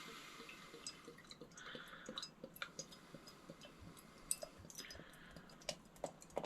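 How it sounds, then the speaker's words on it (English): Löwenbräu Oktoberfestbier, 6.1% from a 500 ml bottle, is poured into a Schneider Weisse glass, making quiet splashing, dripping and a crackle of fizzing foam with scattered sharp ticks. "Let's get it into my Schneider Weiss glass."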